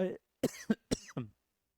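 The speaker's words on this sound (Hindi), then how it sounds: "खांसी हो जाता है पढ़ाते पढ़ाते" A short burst of several harsh coughs in quick succession, close to the microphone, with a brief vocal sound just before them.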